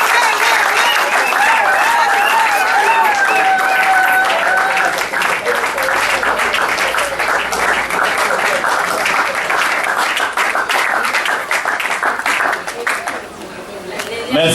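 Audience applause at a gathering, loud sustained clapping from many hands that runs throughout, with voices and calls mixed into the crowd noise and a slight dip near the end.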